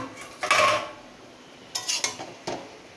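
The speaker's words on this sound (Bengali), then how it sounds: "এই যে ঢাকনাটা আমি খুলে দেখে নেব লাউটা থেকে জল ছেড়েছে কি" A metal lid lifted off a pot of cooking bottle gourd, giving a clattering scrape followed by a few lighter clinks of cookware, close and moderately loud with no talk.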